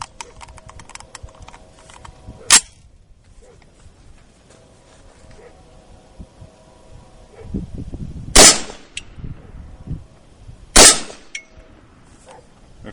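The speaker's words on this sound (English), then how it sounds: "I'm gonna shoot 2 hollow points, and then I'll shoot 154 grain." Three sharp, loud AR-15 rifle shots fired at a pumpkin target with hollow point and soft point rounds, widely spaced, cracking over quiet outdoor background noise.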